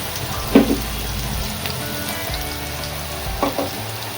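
A small chopped onion sautés in a pan for dhaba-style mushroom masala, sizzling steadily at close range, with two brief clatters of stirring.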